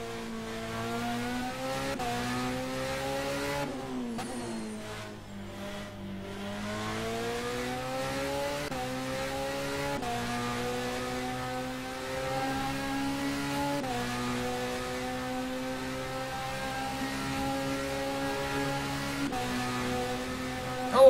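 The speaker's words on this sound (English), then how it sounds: "Gilles in the Porsche 51 Racing number 2" A Porsche LMP1 race car engine drones continuously around the track, its pitch climbing and dropping with shifts and corners, steady and moderately loud with no talk over it.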